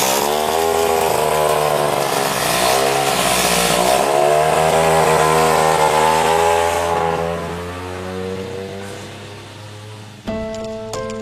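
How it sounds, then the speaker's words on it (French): Moped engine running steadily at high revs, a loud buzzing two-stroke drone that holds, eases slightly lower after several seconds, then cuts briefly before restarting near the end. "la mob est de nouveau roulante"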